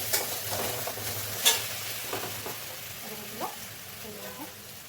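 Taro root kofta curry sizzles steadily in hot oil in a pan, a constant frying hiss broken by the scrape and clink of stirring.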